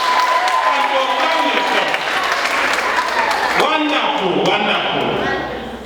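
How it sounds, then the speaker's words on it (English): Female workers clap loudly together at a Women's Day awards event, a thick continuous wave of applause with voices and cheering mixed in, fading slightly at the end. "Can you clap for yourself?"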